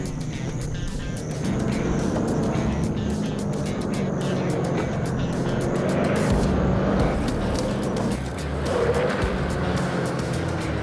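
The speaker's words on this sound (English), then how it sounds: "we're down here to do this check on us on this swerve test to see if these smart coils are any better" A four-wheel-drive vehicle fitted with new suspension coils runs a swerve test, its engine droning steadily and its tyres scrubbing and squealing through the turns, loud and continuous.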